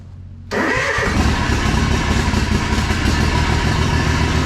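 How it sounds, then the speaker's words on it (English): Lawn mower engine cold-starting after sitting unused for a couple of months: a quiet lead-in, then a sudden catch into a loud, close, steady running roar. "Time for a cold start on the mower."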